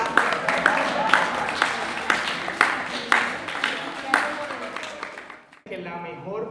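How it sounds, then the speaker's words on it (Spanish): Audience applause at a business panel discussion, a dense steady clapping with sharp accents that fades out, then a voice begins talking at the end. "Un aplauso, por favor."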